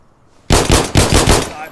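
Loud automatic gunfire in the game Insurgency Sandstorm: two close rapid bursts of rattling shots after a brief quiet start.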